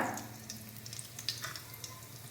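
Peanuts and spices frying in oil for pulihora, a soft steady sizzle with faint crackles and a few sharper pops, close and moderately quiet, no talking.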